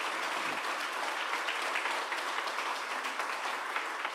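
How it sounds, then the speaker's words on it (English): A large crowd applauds New Orleans Police Department officers at a Jazz Fest announcement event, a dense, continuous wash of clapping heard from some distance, steady for the whole stretch. "Can we give them a round of applause for their work?"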